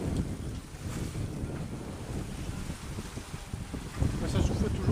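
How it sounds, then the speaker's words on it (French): Strong wind of about 17 knots blows across the sea during a sailboat crossing, a continuous buffeting rush with low rumbling microphone noise that swells louder toward the end, with no clear speech. "Mais ça souffle toujours, c'est 17 nœuds."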